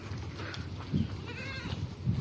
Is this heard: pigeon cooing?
no